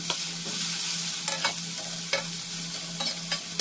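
Chopped onion and garlic fry in hot oil with a steady, close sizzle, broken by a few sharp scrapes of a spoon stirring the pan; no one speaks.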